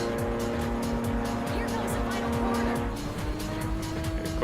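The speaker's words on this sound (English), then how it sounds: "I just feel like the engine sound is very funny when someone gets close." Roaring race car engines from opponents closing in during Ridge Racer 7, a dense, loud, continuous whine with tire squeal layered throughout.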